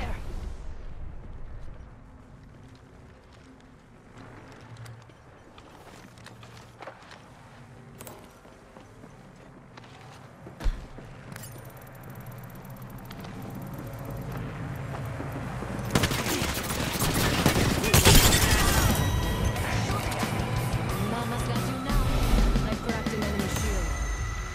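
Apex Legends gunfight: rapid weapon fire and a grenade blast, with a bright, dense crash of explosion and debris growing louder toward the end. Scattered shots and game noise come earlier, and a voice speaks over parts of it.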